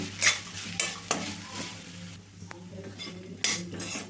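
Rice and coconut stirred and fried in a pan, with a spoon scraping and clinking against the metal in repeated strokes over a faint sizzle, close and alone without talk.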